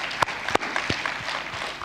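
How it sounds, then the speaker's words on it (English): Audience applause at the AfriCaribbean Trade and Investment Forum 2022, a steady wash of many hands clapping for under two seconds, with a few sharper, louder claps standing out near the start. "I think you need to give yourselves a round of applause as well."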